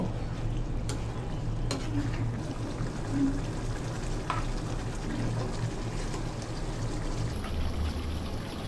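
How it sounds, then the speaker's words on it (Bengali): Dhaba-style chicken curry masala is stirred in a hot pan, a close, continuous sizzle with steady scraping and a few sharp clinks of the spoon against the pan. "2-1 মিনিট এভাবে নাড়তে থাকবো।"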